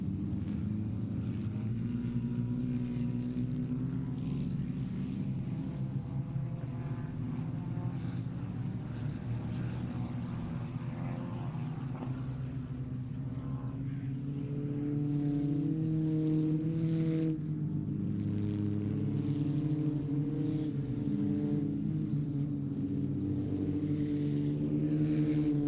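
Several air-cooled historic racing cars on a warm-up lap at Mondello, a continuous layered engine drone with steady tones rising and falling as cars pass, loud and sustained throughout.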